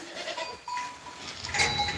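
Goats bleat in short nasal calls, several overlapping in a close, noisy pen during kidding season, with no talking.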